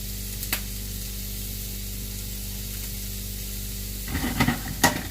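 Plant-based orange "chicken" fries in a hot pan with a broad, even hiss, then a few stirring knocks and crackles near the end, close and without talk.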